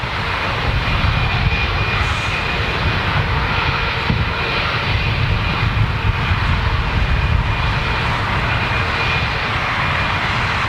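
Boeing 747 engines roar in a loud, continuous, steady drone with a faint high whine on top, heard on the jet's final flight and sustained without a break.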